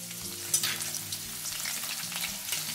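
Green chillies frying in hot oil in a kitchen pan, a steady crackling sizzle with faint stirring clinks, close and moderately quiet, no voices.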